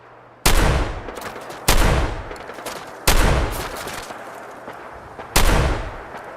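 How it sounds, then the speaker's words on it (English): Gunfire in Fallout 4 cracks out in four loud, separate shots, each a sharp broadband blast with a decaying tail. The shots come at uneven gaps of one to two seconds, with no voices over them. "I'm hitting him like every single shot according to the little green crosshairs."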